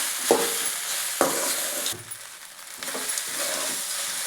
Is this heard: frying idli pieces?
yes